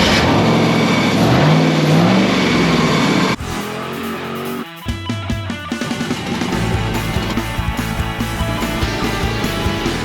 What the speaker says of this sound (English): this week we're getting my dad's wagon fired up with this LS